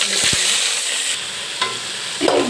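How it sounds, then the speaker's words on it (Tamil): Shallots, tomato and garlic sautéing in oil with mustard seeds, cumin and curry leaves hiss loudly and close, with a few sharp spatula scrapes and knocks against the pan. "கட் பண்ணி தக்காளி, வெங்காயம், பூண்டு நல்லா வதங்க வைக்கணும்"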